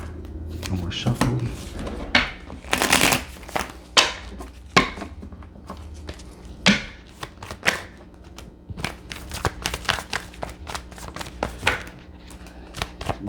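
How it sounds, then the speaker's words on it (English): Tarot cards are shuffled and handled during a reading, a run of irregular taps, riffles and sharp clicks at close range with quiet gaps between them. "One more shuffle."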